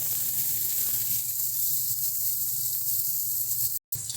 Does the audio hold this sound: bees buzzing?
no